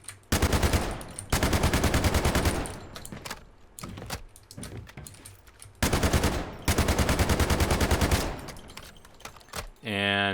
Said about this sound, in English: the next gun we're going to do for Stinger is the Scar